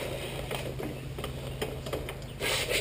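A wrench loosens the 32 mm rear axle nut on a dirt bike while adjusting the chain, giving a steady run of close, fast mechanical ratchet clicks with a slightly louder burst at the end.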